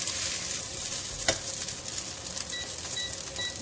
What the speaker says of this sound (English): just give it a couple of stir